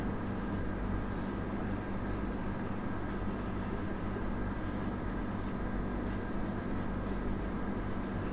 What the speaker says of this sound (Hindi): जैसे हमने लिखा गीता पत्र लिखती है।